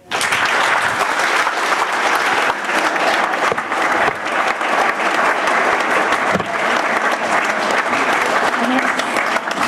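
Sustained, loud audience applause at a New Year's greetings ceremony in Toulon, dense clapping filling the room steadily throughout with no letup.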